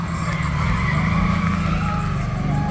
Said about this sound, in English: my man here that did this little quick drift